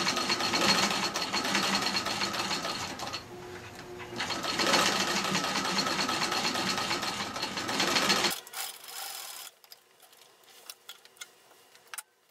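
A Singer Model 15-91 sewing machine stitches through layers of patchwork fabric for a flat cap, a steady close whirring run with a short slowdown, then stopping into quiet ticks and clicks.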